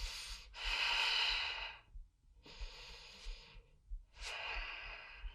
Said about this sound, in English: Take a breath in, and then as you exhale